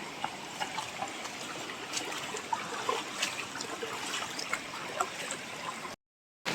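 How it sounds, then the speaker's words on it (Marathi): A steady rush of a waterfall in Kajirda village, Rajapur, Konkan, fills the scene, constant and close, with small splashes, then a brief silence near the end. "आता इकडे पण आपण त्या धबधब्याखाली मजा घ्यायला आलोय"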